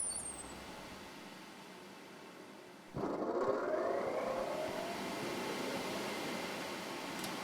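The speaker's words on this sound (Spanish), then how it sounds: "Esta fragua la tenemos con un ventilador eléctrico, que regulamos el aire de acuerdo a la necesidad." An electric fan feeding air into a coal-fired blacksmith's forge switches on partway through, whirring up from a quiet room into a steady, close rushing hum that holds to the end.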